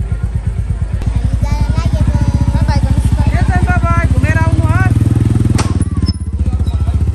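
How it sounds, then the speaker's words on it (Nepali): Motorbike engines rumble close and steady along a crowded street at night during a Tihar festival evening, with people talking and calling out over the traffic noise. "अब 9 बजिसक्यो तै पनि बाइकहरू एकदम कुदाइरहेछ यहाँ हेर्छ"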